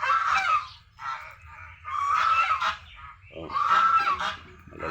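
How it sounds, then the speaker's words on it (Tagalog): Geese honking in three loud, close bursts of overlapping calls on a farm, with short pauses between and a low rumble of background noise. "Pati yung mga gansa natin mga kapato,"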